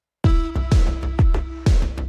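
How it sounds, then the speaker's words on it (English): Synth notes struck in a repeating pattern, each hit followed by a long, heavily compressed reverb tail that swells between attacks; loud and alone with no talking. "it might give you a cool effect if you like really compress it"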